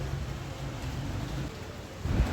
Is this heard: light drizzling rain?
yes